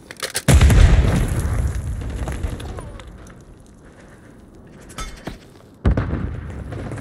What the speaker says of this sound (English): JV is Tossing grenade!